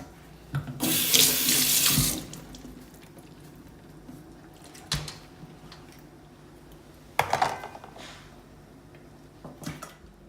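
Water running from a kitchen tap for a steamer while cooking oysters and abalone, a loud steady two-second stream, followed by a few brief knocks and clatters in a quiet room.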